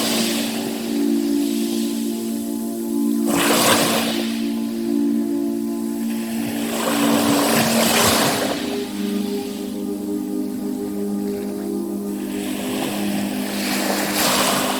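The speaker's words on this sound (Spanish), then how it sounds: "y escuchen las olas." Ocean waves wash in and recede in broad surges at about three-second intervals, steady and continuous over a low droning hum, with no voices.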